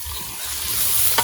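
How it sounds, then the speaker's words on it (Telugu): Water poured into a dish during cooking with friends makes a short, steady rushing hiss that swells slightly toward the end, with no talking. "ఇందులో వాటర్ పోసుకోండి"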